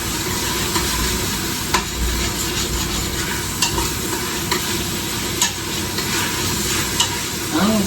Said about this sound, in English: our onions are cooking over here